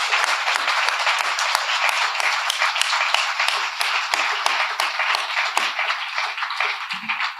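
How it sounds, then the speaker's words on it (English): Audience applause at an academic professorship installation ceremony, continuous dense clapping from a crowd in a hall, bright and fairly loud, holding steady throughout. "let's give them another round of applause"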